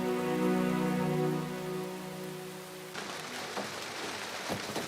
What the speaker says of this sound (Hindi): वो साईं का ड्राइवर कह रहा है कि रास्ते बंद है बारिश की वजह से, फिलहाल यहीं रुक जाएं आप।